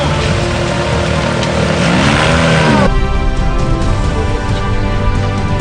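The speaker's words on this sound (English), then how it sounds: "This is Class G side-by-side racing" Class G side-by-side off-road racers competing in the Mariendal 250, with engines roaring loudly and steadily up close, a rising and falling whine suggesting a vehicle passing by mid-clip.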